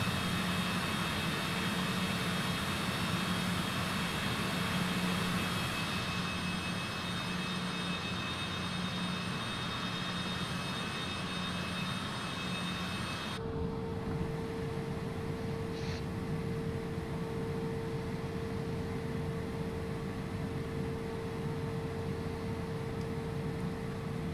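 Aircraft engines in Microsoft Flight Simulator 2020 shutting down after a flight to Ohio State: a loud, steady jet drone runs for about thirteen seconds, then abruptly drops away, leaving a quieter lingering hum.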